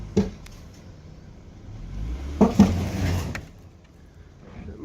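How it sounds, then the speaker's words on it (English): A Lexus IS300 creeps forward in drive and jerks a tow rope taut: low engine murmur, a sharp thump early, then a cluster of clunks and a short surge of engine noise. "Just going to roll forwards in drive, get that rope tight, and then hopefully just give it a little yank"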